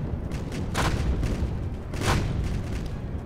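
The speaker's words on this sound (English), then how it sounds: "Look, I can drop bombs." Bombs dropped in the Home Wars RTS video game boom and explode in two heavy bursts, one near the start and one just past midway, over a continuous low rumble of battle.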